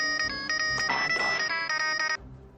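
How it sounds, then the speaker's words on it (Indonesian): A phone ringtone plays loudly in a repeating electronic melody for about two seconds, then cuts off. "siapa lagi yang telepon nih?"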